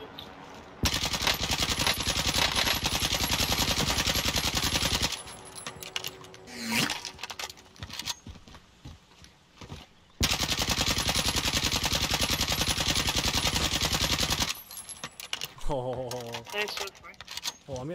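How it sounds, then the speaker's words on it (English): Rapid, sustained gunfire in a first-person shooter video game, with long bursts of dense shots broken by quieter gaps, while players talk over the action. "I'm getting sniped from right here."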